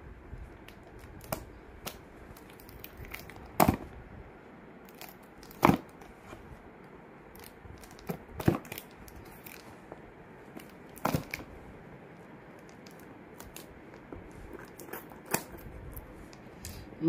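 Tightly taped parcel being cut open at close range during unboxing, soft crinkling and rustling of packaging broken up by scattered sharp clicks and snips.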